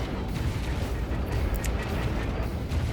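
Automatic weapons fire in the strategy game Act of Aggression, aimed at F-35 jets, heard as a dense, continuous rumble of gunfire and blasts lasting a few seconds, with a few sharper cracks on top.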